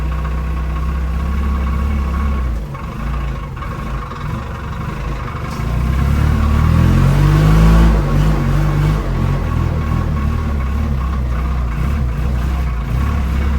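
A Vexel Quovis 500cc wheelchair-accessible vehicle pulls away with a steady mid-low engine hum and vibration, growing louder as it gets moving, heard from inside the cabin.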